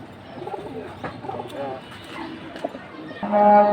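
Giribaz high-flying pigeons coo in soft, low, rolling calls, close by, with a few faint chirps and some background noise, rising in level near the end.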